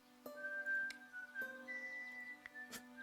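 A game character whistles a tune in Broken Sword 5: The Serpent's Curse, a steady melodic line over a soft looping background, punctuated by a few faint sharp ticks.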